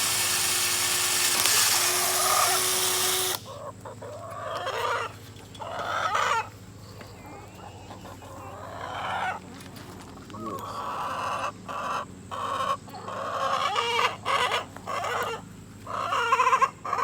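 Chickens in a coop cluck in irregular bursts after a loud opening stretch of noise. The calls come close and fairly loud, with short pauses between them.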